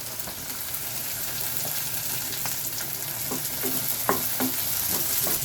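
Onions sautéing in a pan for a radish masala fry give a steady close sizzle, with a few soft clinks and scrapes of stirring toward the end and no voices.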